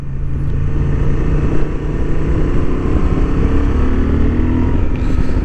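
A 2023 Honda XL750 Transalp motorcycle accelerates on a racing track, its engine roaring loud and steady up close with heavy wind buffeting throughout.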